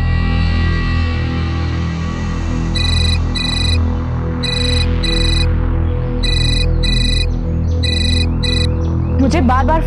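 An electronic ringtone sounds in repeated double bursts, steady and evenly spaced, over a low hum and indoor background, with a brief voice near the end.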